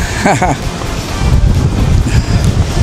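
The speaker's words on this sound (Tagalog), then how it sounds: "Medyo mahangin." Gusty wind at a beach house on a drizzly day buffets the microphone in loud rumbling bursts, with a brief voice near the start.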